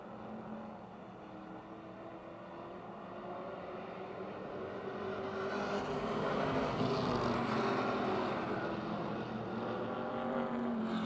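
Race cars roar around the Motordrome Speedway oval during a heat race, a dense, continuous engine drone that swells louder midway and stays steady, with no talk over it.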